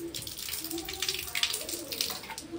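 Rice being rinsed by hand in water, soft quiet splashing and swishing that comes in small uneven surges, close by.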